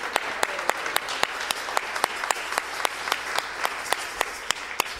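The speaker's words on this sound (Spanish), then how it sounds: "pido otra vez un fuerte aplauso porque es un coro que siempre es muy dedicado" Church congregation applauding the choir at a Sunday service, with one prominent hand clapping in a steady, evenly spaced rhythm over a softer wash of crowd applause.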